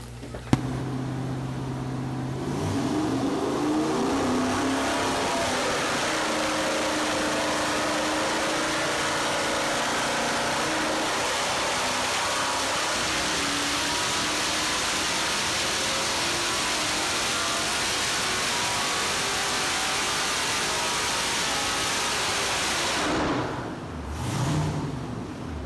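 A 6.2-liter L92 LS V8 with a Summit Stage 4 Pro camshaft runs on a dyno, climbing from a lumpy idle into a long, loud sustained pull before backing off near the end.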